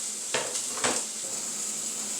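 Chicken pieces sizzling in a preheated cast iron skillet, a steady bright hiss with two sharper crackling bursts as pieces hit the hot pan, fairly close and moderate in volume.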